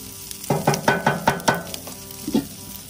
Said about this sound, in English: We got a nice little bubbling going on.